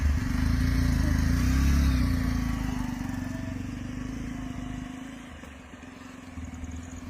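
A motorcycle carrying two riders pulls away during an outdoor song shoot, its engine loud and close at first, then fading steadily as it rides off into the distance.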